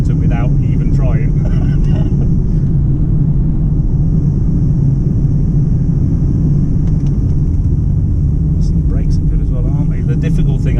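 A Rolls-Royce Wraith Black Badge cruises at 100 mph through ford water, giving a loud, steady low rumble of road and engine noise that fills the cabin while people inside talk over it.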